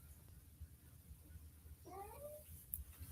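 A house cat gives a single drawn-out meow, wanting to be let outside, faint against a low indoor hum in a quiet room.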